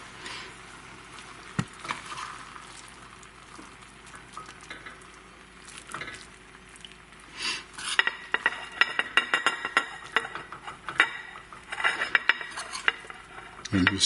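A spoon scraping and clinking against a cooking pot of pork ribs with lentils, faint at first, then a busy run of close metallic scrapes and taps toward the end, with no talking.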